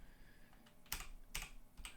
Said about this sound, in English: once I type in here